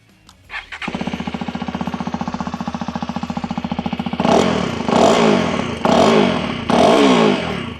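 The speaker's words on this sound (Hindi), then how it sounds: "चलिए सुनते हैं इस मोटरसाइकिल की एग्जॉस्ट नोट को" A Hero Xpulse 210 motorcycle starts up, settles into a steady, throaty idle, then gives several sharp throttle revs that rise and fall in quick bursts, loud and close with no talking.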